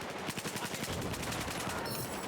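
Rapid rifle gunfire in the video game Battlefield 4, a quick rattling burst of shots, dense and fairly loud, with no talking over it.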